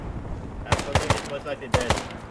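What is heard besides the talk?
mortar shells landing nearby in the video game Arma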